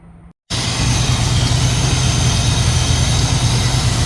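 A 1977 Dodge Adventurer D150 truck's 440 big-block V8 rumbles loudly and steadily after a brief quiet moment, a deep continuous idle close to the listener.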